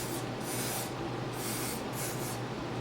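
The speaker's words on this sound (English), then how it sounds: "I'm gonna go ahead and add the hairspray" Hairspray hisses from a can around the hairline of a straight lace frontal wig in steady, close bursts of fine spray over a low constant hum, with no talking.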